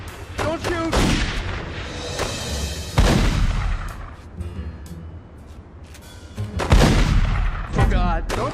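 Gunshots ring out in The Godfather 2 video game, several loud, sharp booming shots spaced a few seconds apart over a dense bed of game sound.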